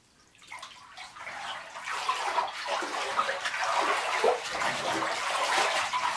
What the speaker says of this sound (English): reach on in here and get our water all mixed up